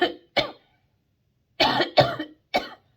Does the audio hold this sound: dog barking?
no